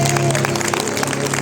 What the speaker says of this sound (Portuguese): dá uma salva de palmas para o Senhor Jesus